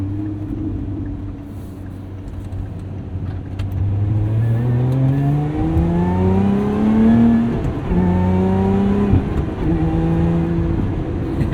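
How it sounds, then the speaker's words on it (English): A 2024 Lotus Emira sports car fitted with an Edelbrock supercharger, heard from inside as the engine revs up through several gears, a steady rumble climbing in pitch with each pull and dropping at every shift. "Hear the nice noises from that Edelbrock supercharger"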